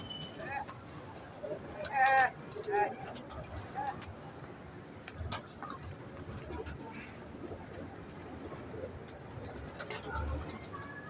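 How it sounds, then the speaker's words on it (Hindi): Pure blue pigeons kept in a breeding setup coo softly in short bursts, with other bird calls around them and people talking close by. "ये नीला कबूतर, प्योर नीला कबूतर है"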